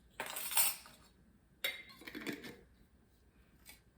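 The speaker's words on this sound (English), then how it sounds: "so I'll go ahead and use this teaspoon" A metal teaspoon clinks and scrapes against a container while measuring dried onion for a homemade potato soup mix, two short, close bursts of light metallic chinks.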